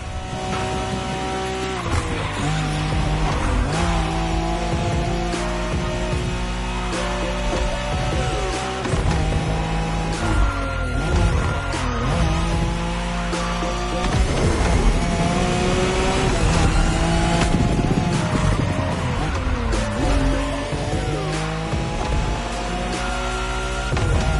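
A Nissan Skyline races along Tokyo's Bayshore Wangan route, its engine roaring loud and unbroken, the pitch climbing and dropping through gear changes with hints of tire squeal.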